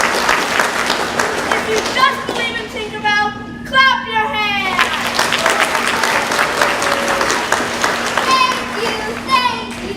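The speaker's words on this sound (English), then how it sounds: "If you just believe in Tinkerbell, clap your hands!" Crowd applause fills a middle school theater during a Peter and Wendy performance, with steady rapid clapping, bursts of cheering and children's voices layered over it, fairly loud and close.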